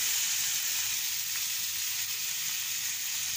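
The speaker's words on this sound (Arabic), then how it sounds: "وبرضو هنشوح فيها أحلى شاورمة لحمة،" Beef shawarma seasoned with salt, black pepper and paprika sautés in a hot pan, giving a dense, even hiss of sizzling that holds steady, close and unbroken, with no talking.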